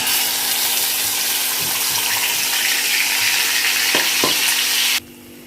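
Spice paste, mixed with cumin and cinnamon, frying in hot oil in a home kitchen, a loud steady sizzle with a couple of faint knocks near the end before the hiss cuts down abruptly to a quieter sizzle; nobody speaks.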